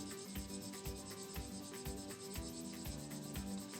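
Fingers lightly rub and flatten a stick of chalk, giving a soft, steady, close scratchy rasp that repeats in short strokes with no talking.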